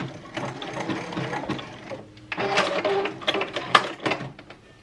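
A domestic sewing machine runs in short close bursts while back stitching seams on a wrap dress, its needle mechanism whirring and clattering rapidly with brief pauses and clicks between runs.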